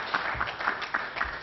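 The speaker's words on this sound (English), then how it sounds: "I want to start off by really giving Len Sutherland a real applause for that particular effort." An audience applauds Len Sutherland at a tribute, its brief, steady clapping slightly distant and without any voices over it.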